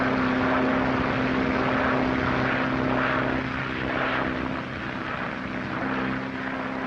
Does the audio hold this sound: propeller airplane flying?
yes